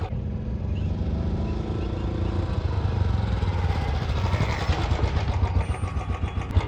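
A Royal Enfield Standard BS6 motorcycle with 14,250 km on it thumps at idle, then revs, its engine note rising into a busier, louder pulsing throb that stays close and steady.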